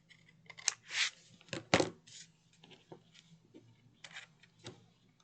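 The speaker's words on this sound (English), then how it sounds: "So I'm just going to take my scissors" Scissors trim excess paper from a mini scrapbook page near the spine, giving several close, crisp snips and rustles in an irregular rhythm with no talking.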